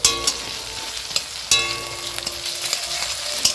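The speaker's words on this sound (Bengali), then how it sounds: "রসুনটাকেও একটু হালকা ফ্লেমে ভেজে নেবে সুন্দর করে।" Chopped garlic fries on a low flame with a steady close sizzle, crackling throughout with a few sharper pops and stirring clinks.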